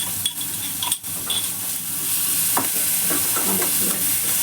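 Steady sizzling of crushed chili and garlic frying in a pan for aloo paratha filling, with a utensil scraping and clinking as it's stirred close by.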